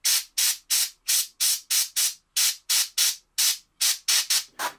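An airbrush sprays paint onto an Infinity army miniature in about fourteen short, evenly spaced hissing bursts, each a fraction of a second long, close and clear.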